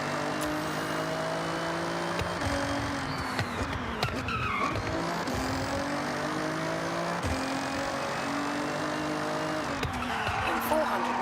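A car drifts in Forza Horizon 6, engine droning with repeated tire squeals and skids as it slides through turns, while a voice talks over the racing noise.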